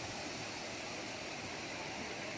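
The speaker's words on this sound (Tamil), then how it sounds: "ஓடுது பாருங்கள், இன்னும் மேலே போக போக ஃபுல்லாக தண்ணி ஓடும்" Mountain stream on a hillside trail near a temple, water flowing in a constant broad rushing hiss, steady and moderately close with no voices.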